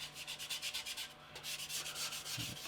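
Quick, rhythmic rubbing of sandpaper over a 1/48 scale plastic MiG-25 model, close and fairly quiet, with a brief pause midway and a faint low hum underneath.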